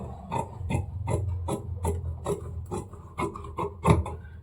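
Blouse fabric being cut for a prince cut blouse, heard as a rhythmic series of close rasping strokes, roughly ten evenly spaced cuts over a low continuous background.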